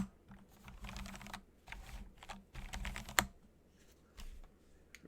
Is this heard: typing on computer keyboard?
yes